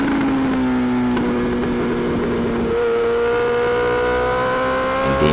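Sport motorcycles such as a Yamaha R1M, GSX-R1000R, CBR and ZX-10R lapping a track at a trackday, a loud close engine howl whose pitch holds, dips on a shift, then climbs again under hard acceleration.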